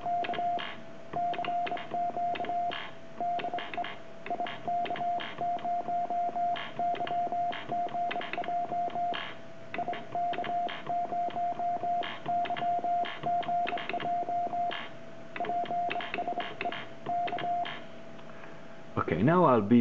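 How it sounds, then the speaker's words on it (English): Morse code CQ keyed on a Begali Intrepid bug comes through as a steady single-pitch tone in rapid dots and dashes with brief pauses between groups, loud and continuous, ending with a short burst of other noise. "I'll be playing a CQ with a Begali Intrepid Bug and see how the CW machine decodes it."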